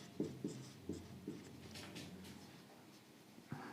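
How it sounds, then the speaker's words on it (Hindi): A pen scratches out short notes during a Class 12 physics lecture on electrostatics, with several quick separate strokes followed by a longer stretch of writing, quiet and close. "जैसे मैं यहाँ पे शॉर्ट में लिख रहा हूँ"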